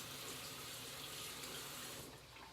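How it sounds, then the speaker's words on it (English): Kitchen tap water runs steadily over a knife being rinsed, a close, continuous splashing hiss that eases slightly near the end. "I'm just going to give this knife a rinse"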